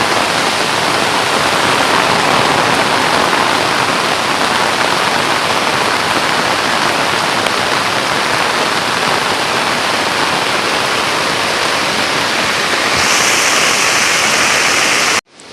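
A dense, unbroken roar of heavy monsoon rain falls on Kokan rice country, loud and close throughout, shifting slightly in tone near the end before cutting off abruptly.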